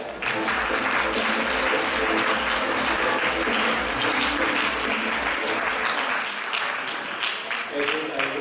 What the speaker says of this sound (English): Ladies and gentlemen, a warm round of applause, please